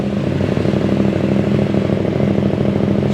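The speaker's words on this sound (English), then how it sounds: "And this is what it sounds like with the baffle removed." A KTM 890 Adventure running an Arrow titanium exhaust with the baffle removed idles close up with a loud, even, raspy burble.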